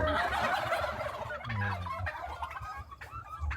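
A flock of turkeys on a turkey farm in Saraburi province, Thailand, gobble continuously in a dense, fairly close chorus, with no talking.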